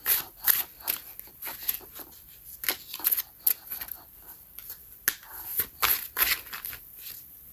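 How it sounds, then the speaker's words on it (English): A deck of playing cards is shuffled by hand in uneven bursts of crisp riffling and flicking clicks, close and fairly quiet, with brief pauses between handfuls. "And I am normally better at shuffling than this."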